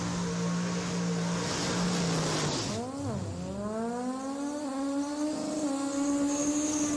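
An Outlaw 632 drag racing car at World Cup Finals testing, similar in sound to a Mountain Motor Pro Stock, drones with a rough, distant engine note that dips sharply and then climbs steadily in pitch as it revs.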